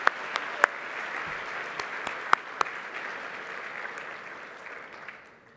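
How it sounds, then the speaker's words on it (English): Audience applause at an award dinner, a sustained wash of clapping with a few sharper claps standing out, gradually fading toward the end. "giving these inspirational teachers a big round of applause."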